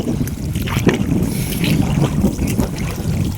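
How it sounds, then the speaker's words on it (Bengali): Strong wind buffeting the microphone in a steady, loud roar, with gusty bursts and a watery wash outdoors at a fishing net in a flooded rice field. "প্রচুর পরিমাণ বাতাস আছে"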